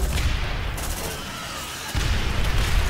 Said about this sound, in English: Actually, no, let's do an airstrike.